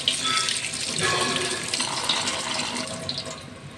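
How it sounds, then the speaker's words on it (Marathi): Poha (flattened rice) being washed under a running kitchen tap, a steady close splash of water pouring into a sink for the whole stretch, with no talking. "तर आता पोहे मी धुवून घेते, चांगले चाळून घेतले आधी, पण आता धुवून घेते मस्त असे।"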